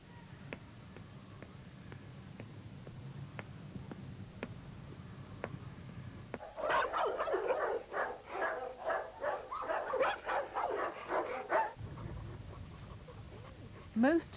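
A domestic dog barks in a quick burst of repeated, fairly close barks, with softer yips and whimpers mixed in, after a quieter stretch of light clicks and background noise.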